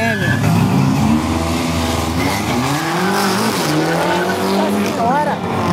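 Two BMW race cars duel in a qualifying run, engines revving hard with loud, sweeping tire squeal and skidding, while a voice talks over the noise.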